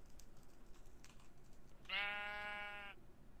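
A single sustained sheep bleat from Minecraft, loud and clear for about a second over quiet background clicking that resembles typing.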